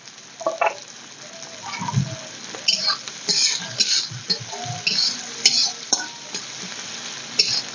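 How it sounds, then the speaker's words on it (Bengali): A chopped tempering with a little green chilli fries in a pan for a Bengali dried-fish chutney, giving a continuous crackling sizzle broken by scraping stirs and small popping ticks, close and moderately loud. "এটা আমরা ফোড়ন হিসাবে দিয়ে দেব। আর এটাকে লাল লাল করে ভেজে নেব।"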